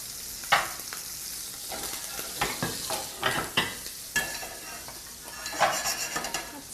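Food searing in too much olive oil in a pan while it is stirred, a steady sizzle broken by scattered clinks and scrapes of utensils against cookware, fairly close and alone without talk.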